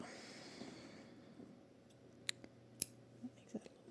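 Scissors snipping yarn during crochet work, a few brief, faint, sharp clicks against a quiet room background, with no talking.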